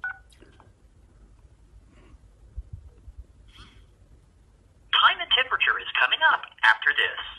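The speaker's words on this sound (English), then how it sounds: "this phone number is a time and temperature recording" A child's cell phone places a call to a time and temperature recording line in Raleigh: a few faint tones early on, then a loud stretch of the recorded announcement voice carrying through the earpiece over the last few seconds.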